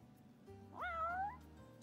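A cat in the video game Final Fantasy XV gives one clear, rising-then-falling meow of about half a second over quiet game ambience.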